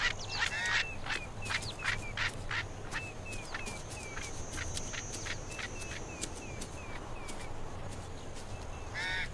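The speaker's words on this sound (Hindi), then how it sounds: "नॉर्दर्न ब्लैक कोरहांस का एक जोड़ा पास में घूम रहा है" A pair of northern black korhaans calling nearby: a rapid series of harsh, rasping croaks repeated in a rhythmic run, loud against faint background noise.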